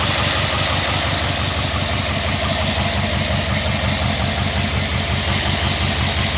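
Squarebody truck with a carbureted engine idling through a cheap aftermarket exhaust with a slight header or collector leak; a loud, steady, throbbing rumble with an even lopey pulse that fills the whole stretch, no voices over it.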